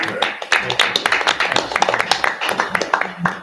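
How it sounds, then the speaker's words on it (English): Staff are applauded at an FASD school board meeting. The clapping is crisp and sustained across the room, with sharp hand claps standing out from the rest, and faint voices mix in beneath it. "You deserve applause every day"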